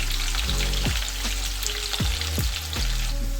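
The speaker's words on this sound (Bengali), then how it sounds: "তো কুচনো পেঁয়াজ দিয়ে দিলাম, একটু লাল লাল করে বেরেস্তা টাইপ ভেজে নিতে হবে।" Chopped onions sizzling and frying in hot oil in a pan, a dense steady crackle with occasional scraping stirs from a spatula, close up and with no voices.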